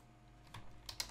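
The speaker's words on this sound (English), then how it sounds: "I'm going to type in" A few soft keystrokes tapped on a computer keyboard, heard close and very faint against a quiet room.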